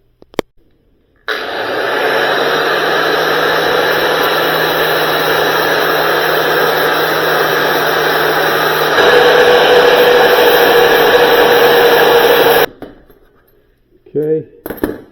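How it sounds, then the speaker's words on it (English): Grinder stripping paint off the metal frame rail of a Sub-Zero 611-650 humidity drawer, a loud continuous high whine lasting about eleven seconds and rising slightly in pitch partway through, then cutting off, followed by a few clinks and short voice sounds. "the first thing I'm going to do is I'm going to grind off this paint"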